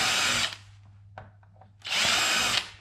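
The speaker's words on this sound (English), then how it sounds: "I'm just going to drill each one of these out." Two long bursts of a power drill boring holes through a C7 Corvette bumper during a Stage 3 aero kit install, separated by a quieter gap with a few small knocks; close and loud, no talking.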